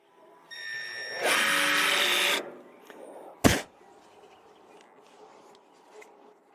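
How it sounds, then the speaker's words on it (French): A jigsaw with a metal-cutting blade whines loudly through a cut for about a second, then stops; a sharp bang follows, with quieter workshop noise before and after. "j'utiliserai la scie sauteuse comme mentionné. Et j'ai une lame de scie à métaux dedans."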